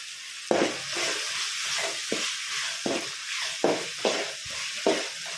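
Tomato and coriander leaves sizzle in a hot pan under a steady hiss of frying, broken by repeated scraping strokes of a spoon stirring at a regular pace, close up with no talking.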